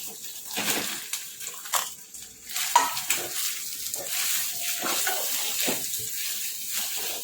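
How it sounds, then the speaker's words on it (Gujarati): Mashed potatoes being stirred into a pan of frying spices, green chillies and ginger paste for a samosa filling, giving an uneven, softer sizzle broken by repeated scraping and stirring strokes close by. "હવે મેશ કરેલા બટાકા એડ કરીશું"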